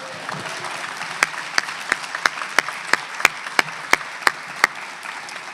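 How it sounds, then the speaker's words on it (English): An audience at a memorial lecture applauds a U.S. congressman: steady, dense clapping fills the hall, with a few sharp, louder individual claps standing out in a regular series. "Let's give our congressman another round of applause."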